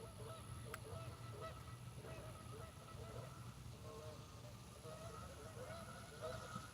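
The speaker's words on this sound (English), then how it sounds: "Geese are going crazy over there now." Repeated honking calls of geese at a distance over steady low background rumble, coming in irregular bursts.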